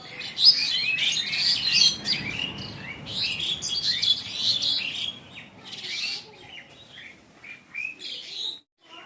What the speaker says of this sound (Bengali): শালিক পাখিগুলো কেমন ঝগড়া করছে দেখুন